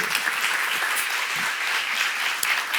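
Dense, steady applause from a church seminar audience fills the whole stretch, loud and close with no voice over it.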